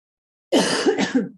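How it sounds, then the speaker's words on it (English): A single short, close cough that rolls into a throat clearing, loud and alone after a moment of silence. "I feel like I might actually have a little cough here going on"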